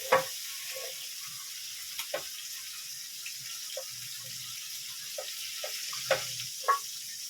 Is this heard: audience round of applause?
no